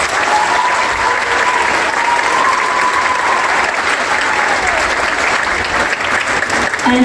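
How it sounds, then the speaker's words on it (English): Steady, dense applause from a school audience at an elementary Christmas program, loud and sustained throughout with a faint murmur of the crowd underneath. "Let's give them a round of applause."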